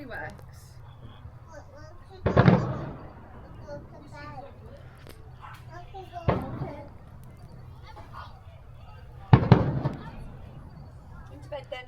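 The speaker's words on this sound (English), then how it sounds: "here's the fireworks that you can see on the night." Three booming firework bursts of a night display over EPCOT go off a few seconds apart, each followed by crackle, over a low background hum and faint chatter.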